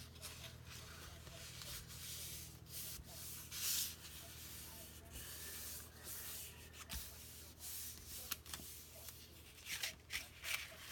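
Paper being folded over along a quarter-inch gusset while crafting a recipe folio album, faint soft rubbing and creasing scrapes with a few brief crinkles, quiet and close.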